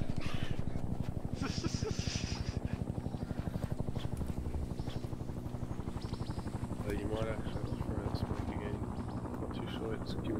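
A helicopter in the Arma military game's ALiVE scenario drones with a steady pulsing rotor thrum that fills the scene, loud and continuous, while players talk over it.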